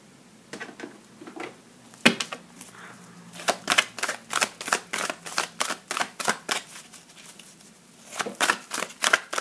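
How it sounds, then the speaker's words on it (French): Tarot cards being drawn and laid down in a quiet room, a run of soft, crisp card snaps and slides repeating in irregular bursts, close and moderately faint, with no one speaking. "je prends 2 cartes"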